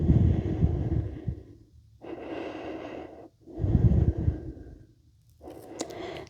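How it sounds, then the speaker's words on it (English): Slow, deep breaths during a yoga flow, each inhale and exhale long, audible and close, in a repeating rhythm with short pauses between breaths in a quiet room. "deepen your breath."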